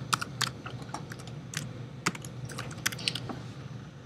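Clicks from a computer keyboard as a file name is typed, a quick irregular run of close, crisp keystrokes with brief pauses, no voices.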